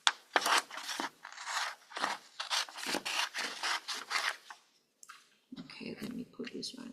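Scissors cutting a paper printout close by: a run of crisp, rhythmic snipping and paper rustle, a brief pause, then a few more rustles and cuts.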